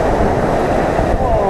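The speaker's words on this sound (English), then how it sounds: "look at the waves up here" Churning river rapids on the Avon/Swan River near Bells Rapids Bridge, a loud, steady rush of breaking water and spray heard up close, with no break.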